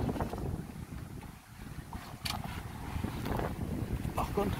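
Steady wind, about 10 knots, rushing past the microphone aboard a sailing boat at sea near Pantelleria, with a low continuous rumble and occasional water sounds throughout.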